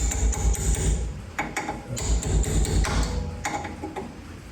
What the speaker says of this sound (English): I'm going to tap that actually a little bit more. Make sure that it's down all the way in.